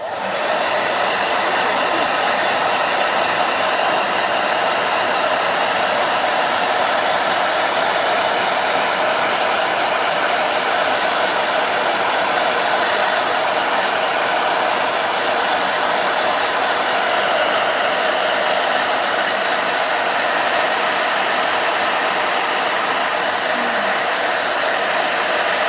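A blow dryer runs steadily on hair, a loud, constant whooshing hum up close that continues unbroken from start to finish.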